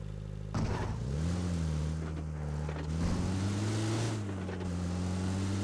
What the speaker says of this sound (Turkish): Burada bir tane daha uçak geçiyor.